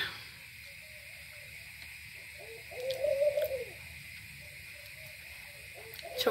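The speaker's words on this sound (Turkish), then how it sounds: "Bu arada kumrular ötüyor." Turtle doves coo in soft, low phrases at a distance outdoors, one clearer burst in the middle and another at the end, over a steady background hiss.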